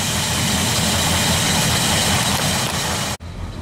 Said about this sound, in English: so we got an idle right now. It's about maybe 600 RPM.